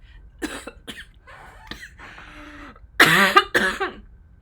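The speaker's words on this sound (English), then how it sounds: "and just when I say that, I just have a coughing fit." A burst of harsh, repeated coughs, starting with a few scattered hacks and building into two loud, heavy coughing spasms near the end, close by.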